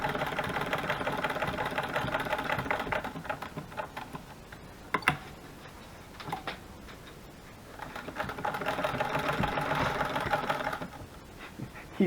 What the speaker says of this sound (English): I just love listening to this old sewing machine.